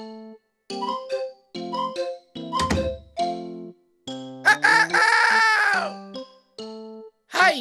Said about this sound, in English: That sound is definitely a rooster.